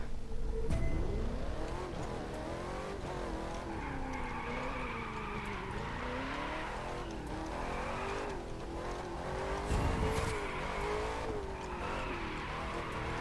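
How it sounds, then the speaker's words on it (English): A muscle car in The Crew 2 racing game surges forward as throttle and nitro kick in, engine revving up and down in rising sweeps with tire squeals, loud and close for the whole stretch with no voices. "Pressing the throttle and my nitro goes."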